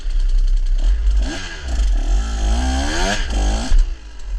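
A 2024 KTM 125 XC-W two-stroke dirt bike engine revs up and down loudly and close by, with rising and falling pitch sweeps and some mechanical clatter throughout.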